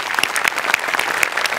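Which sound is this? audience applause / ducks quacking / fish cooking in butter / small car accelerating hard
audience applause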